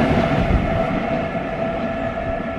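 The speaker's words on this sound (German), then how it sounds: "Eine LZ aus zwei arbeitenden Loks der Baureihe 152." Light engine move of two working class 152 electric locomotives running together, a steady loud rail rumble with a sustained humming tone throughout the short pass.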